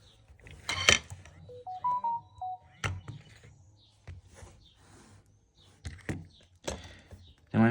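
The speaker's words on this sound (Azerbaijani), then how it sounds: "Deməli insan görəndə də bildiriş gəlir ha." A short melodic alert chime from a SZSINOCAM security camera app notification, a few stepped tones rising and falling, set among quiet room noise and brief bursts of nearby talk.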